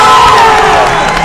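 A large crowd at a Scotland's Strongest Man strongman competition cheering and shouting loudly, a dense close roar of voices and whoops filling the short moment.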